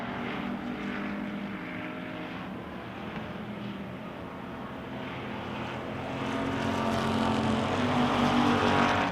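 Wissota Pure Stock race cars roaring around a dirt racetrack during a July 4th feature race, a steady loud blur of engines that swells louder near the end.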